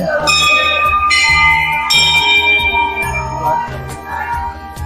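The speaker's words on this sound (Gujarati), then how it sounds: "ઘંટડીનો નાદ જ સંભળાય જાય" A temple bell rings at the Chotila hill shrine, struck repeatedly in a loud, close series of bright metallic clangs that each ring out and overlap.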